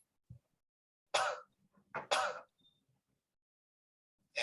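A thin young man coughs and clears his throat in short dry bursts, a couple of harsh hacks with pauses between them, close and otherwise quiet.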